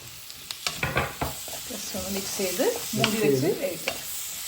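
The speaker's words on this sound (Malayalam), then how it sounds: "മുളക് പൊടി അരിഞ്ഞ് വെച്ച തക്കാളി അങ്ങനെ ഇടുക" Chopped tomato drops into chili powder masala frying in a pan, followed by loud, close sizzling and repeated scraping stirs with a spatula, no talk.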